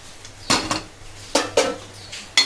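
Jamun seed mukhwas seasoned with turmeric and salt stirred in hot ghee in a pan, giving three separate clinks and scrapes of a spoon against the pan with quiet gaps between them.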